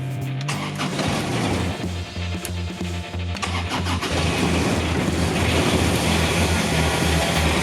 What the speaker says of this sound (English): it is diesel, and even among any experience I have with diesel, this thing seems way worse to start in the cold